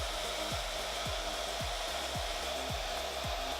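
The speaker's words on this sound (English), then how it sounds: "I'm just gonna use a blow dry on a cool setting just to make sure that everything is dry" A hair dryer on a cool setting blows steadily over liquid latex makeup for a Halloween missing-eye look, a close, constant whoosh with a faint repeating hum throughout.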